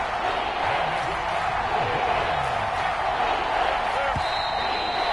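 Stadium crowd in the football video game Madden 22 gives a steady, dense roar that holds at an even loudness throughout, with no clear words.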